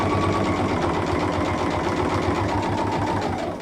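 A sewing machine runs steadily, stitching front and back quilt sashing together in one pass, its fast rhythmic mechanical chatter continuous and close throughout.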